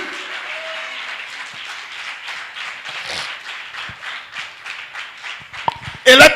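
Congregation at a French-language church service clapping in steady rhythmic applause, a dense patter of many hands with faint voices mixed in and a sharp loud burst at the very end.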